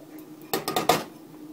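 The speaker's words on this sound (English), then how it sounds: "add the pork and beans to it, and just keep stirring" Pork and beans being stirred in a warming pot for a cheap French soup, heard as four quick metallic scrapes and clinks of a spoon against the pot, close and clear with no talking.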